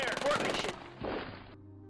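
Short burst of rapid gunfire in the strategy game Shadow Empire, a loud crackling volley that cuts off sharply, followed by a second quieter burst, with a voice heard through the shooting.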